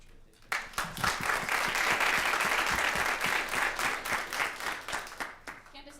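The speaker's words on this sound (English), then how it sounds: "Let's get a round of applause for how much work they've done." A room of people at a student government meeting claps for the Budget Finance Committee, with a burst of dense applause that starts abruptly, holds steady for several seconds, then thins into scattered claps.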